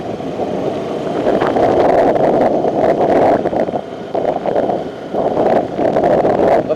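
Strong cyclone wind buffets the microphone on a road trip near Jaffna, a loud, gusting rush that swells and dips in waves.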